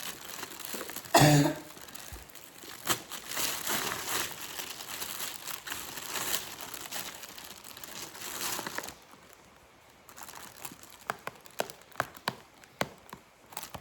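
Snack packaging being unwrapped and handled, with crinkling plastic, a loud rustle near the start, then scattered clicks and taps close by.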